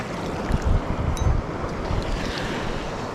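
Waves surging and wind buffeting the microphone at sea during a northeast monsoon (amihan) fishing trip, a steady loud roar with heavier swells washing through, no talking.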